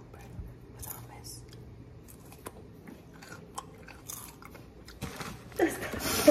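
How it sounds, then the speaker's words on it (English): Raw cucumber dipped in hummus being bitten and chewed, crisp crunching close up with a louder burst toward the end, set against quiet room noise and brief murmured voices. "We're eating cucumber with hummus."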